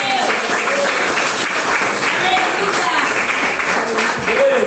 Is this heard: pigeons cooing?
no